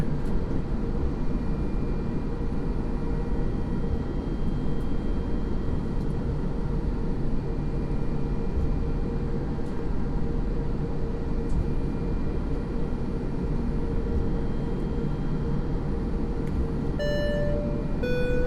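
An A320 in the flight simulator X-Plane 11 taking off from Palm Springs, a loud, steady jet engine roar with rushing runway rumble sustained throughout, a few cockpit tones near the end.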